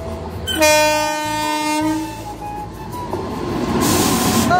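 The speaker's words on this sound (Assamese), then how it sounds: "ট্ৰেইন আহিছে এতিয়া চাকচোন ট্ৰেইনৰ ইফালে" A train passes close by in the rain: a loud, sustained horn blast gives way to the heavy rumble and rattle of rolling cars.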